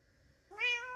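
Minecraft cat giving a single short rising meow, clear and close after a quiet lead-in, with no talking.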